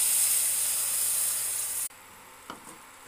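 Water in a heated pan, being readied for kheer, hisses loudly and steadily at close range, then cuts off abruptly, leaving quiet room tone and a few faint small clinks.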